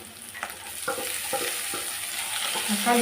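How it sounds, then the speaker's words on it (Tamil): Chopped onions and tomatoes sauté in a hot pan for a fish curry, hissing steadily at close range while a spoon scrapes and taps through them in short strokes. "கொஞ்சம் நல்லா வதக்கிட்டு தக்காளி நல்லா வதங்கிடுச்சு"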